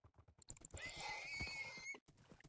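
A horse in the Minecraft Lord of the Rings mod gives one clear, rising-and-falling whinny lasting about a second, with soft clip-clop hoofbeats before and after it.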